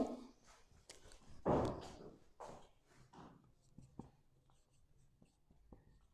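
Chalk or marker scratching out a short formula on a board during a chemistry lecture, a series of brief faint taps and strokes, quiet and close, with no talk over it.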